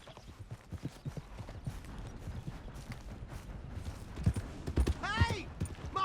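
Horse hooves clop along a path in Red Dead Redemption 2, rhythmic steps drawing nearer and louder, with a voice calling out and a brief whinny near the end.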